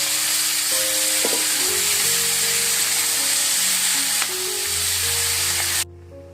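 Toor dal tipped into a hot pan for a Maharashtrian chickpea-greens dish sizzles loudly and steadily, with scraping stirs over the dense frying hiss before it cuts off abruptly near the end.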